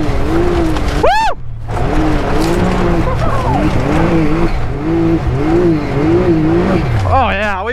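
A car drifts on a backyard dirt track, its engine revving hard and its tires squealing and scrabbling in long sweeping waves. It is loud and close, with a voice whooping over it.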